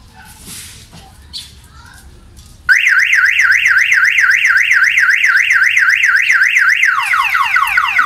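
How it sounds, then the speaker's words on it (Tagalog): A car alarm from a fingerprint anti-theft device suddenly blares after quiet rustling, loud and close, with a rapid warbling siren that switches to a faster chirping pattern near the end. "pansinin nyo, mag-alarm yung ating kotse"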